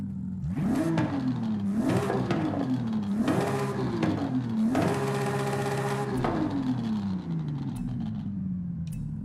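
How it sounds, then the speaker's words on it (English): Car fitted with a race exhaust in the Forza Horizon 5 racing game, revved in four quick rising pulses and then held at high revs for a sustained loud buzz before the engine note slowly winds down. "Now race exhaust."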